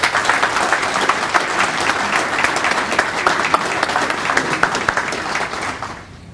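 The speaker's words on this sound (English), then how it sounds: "we applaud you for a great career" Steady, full applause from an audience at an Arkansas Air National Guard retirement ceremony, dense and sustained for several seconds before fading out at the end.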